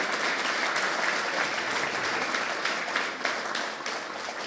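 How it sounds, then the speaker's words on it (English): A conference audience gives a sustained round of applause for six startups in a business competition, dense even clapping that stays loud and steady throughout with no voices on top. "one more round of applause, please, for all of our 6 startups"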